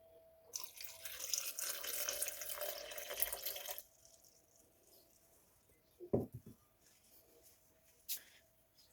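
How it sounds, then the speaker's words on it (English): Water pours into a blender holding papaya seed smoothie ingredients and blueberries, a soft splashing stream lasting a few seconds, followed by a couple of faint knocks and drips in a quiet kitchen. "Now I'm going to add my water."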